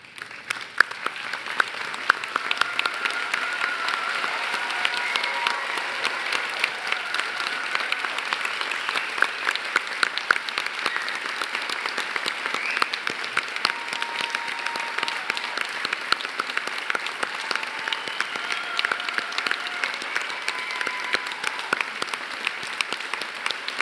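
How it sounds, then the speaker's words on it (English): Audience applause fills a university graduation ceremony in Newcastle, Australia, as a standing crowd claps for seated graduates; dense, steady clapping holds at an even level throughout, with faint voices scattered in the hall. "join me in applauding their wonderful achievements"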